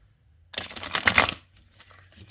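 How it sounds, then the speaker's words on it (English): A Light Seers Tarot card deck is shuffled once, a brief close riffling flutter of cards lasting under a second, then a few soft handling taps in a quiet room. "Let's give it a good shuffle."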